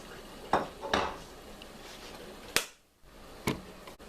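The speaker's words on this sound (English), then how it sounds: "So I'm going to move it off the heat" A metal pot of hot pepper jelly is moved off the heat, giving a few sharp clanks and scrapes close up against the stovetop, spaced out over a few seconds with a quiet background.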